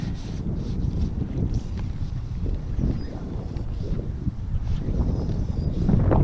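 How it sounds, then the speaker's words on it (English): Wind buffets steadily across a fly fisherman's microphone while he fishes for spring stripers, a constant low roaring rumble that gusts slightly stronger toward the end. "this wind's beating me up now"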